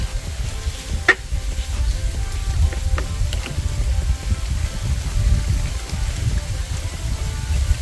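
Squid fries in a pan with a steady crackling sizzle and occasional sharp pops, the cooking noise running unbroken and close with no talk over it.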